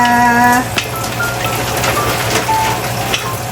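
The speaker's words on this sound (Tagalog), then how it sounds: "Bawang muna. Gisa-gisa lang." Garlic sautés in a hot pan for a Filipino binagoongang baboy pork dish, a steady close sizzle with a brief tonal hum at the start.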